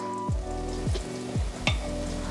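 Food is stirred in a heavy frying pan: four evenly spaced scraping strokes over a steady close sizzle, with no talking.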